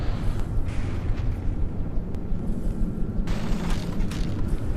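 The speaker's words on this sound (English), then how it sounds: "The Sea Harriers are also coming in with some nice cannon shots as well." Cannon fire and explosions from aircraft in the naval combat game From The Depths, with Sea Harrier jets strafing; a dense, continuous rumbling barrage of booms fills the whole stretch at steady loudness, with no talk.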